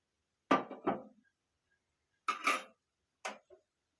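A spoon clinks against a bowl while a spice mixture for chicken chaap is stirred, giving a few short, separate clatters of metal on the dish in otherwise silent surroundings.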